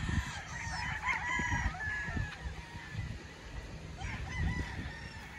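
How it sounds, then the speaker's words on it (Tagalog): Several gamefowl roosters at a game farm in Tanauan, Batangas, Philippines crow one after another against a background of steady clucking and farmyard noise, with no talking. "Talagang quality yung mga manok dito."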